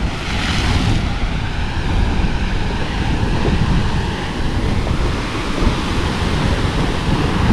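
Rough ocean surf pounds the rocky Big Island coast of Hawaii, a loud, continuous wash of breaking waves mixed with gusting wind noise against the microphone, close by with no voices.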